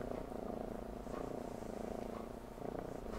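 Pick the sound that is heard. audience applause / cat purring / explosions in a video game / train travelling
cat purring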